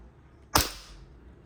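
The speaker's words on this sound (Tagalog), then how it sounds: "So, firing ng Costa Ludus Army Armament R51." Single shot from an Army Armament R501 Costa Ludus airsoft pistol, one sharp snappy crack with a short tail, close and fairly loud against quiet surroundings.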